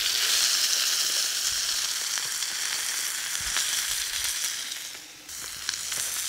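Steak au poivre sears in a hot pan over an open fire, a dense, bright sizzle and hiss with scattered pops that fades toward the end, leaving a quieter low background with no voices.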